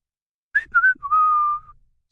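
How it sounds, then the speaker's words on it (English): A person whistles a short tune: two quick chirped notes, then one longer sustained note that slides slightly, clear and close, with no talking underneath. "Stop whistling!"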